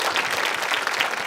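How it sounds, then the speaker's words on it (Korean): Outdoor audience at a rainy strike rally gives brief, steady applause, a dense wash of many hands clapping at moderate volume with no speech over it. "이런 정말 좋은 얘기 했을 땐 박수를 좀 주세요."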